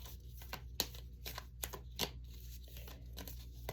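Tarot cards are shuffled close by in a quiet room, a series of soft riffling flutters and crisp slaps, uneven in rhythm, with brief pauses between bursts.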